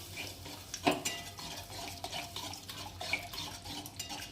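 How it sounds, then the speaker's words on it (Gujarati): Curd is stirred into masala in a pan over a low flame for okra gravy, giving soft, faint, continuous scraping and clinking from the spoon against the pan with gentle wet mixing. "અને એકદમ જ હલાવતા રહેવાનું, જેથી મસાલામાં સરસ મિક્સ થઈ જાય."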